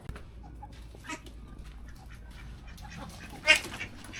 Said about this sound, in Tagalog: Ay, ang dami na ng itik ah.